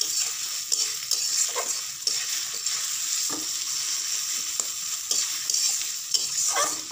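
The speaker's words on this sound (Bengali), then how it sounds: "এবার আমরা সুন্দর করে এটা ভাজা ভাজা করে নেব।" Pointed gourd peel paste with shrimp, salt and turmeric is stir-fried in a pan, a bright steady sizzle overlaid with regular, soft scraping strokes of a spatula, close up and without speech.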